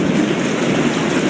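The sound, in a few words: thunderstorm with rain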